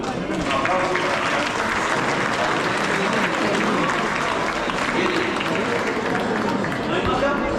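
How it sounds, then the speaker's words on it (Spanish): At a baptism ceremony, a crowd breaks into sustained, dense applause that fills the room evenly, with faint chatter mixed beneath the clapping. "Un aplauso para"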